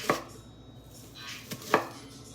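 Knife chopping thinly sliced red onion on a cutting board for a salad mix, three distinct sharp chops, the last the loudest, close and alone with no talk.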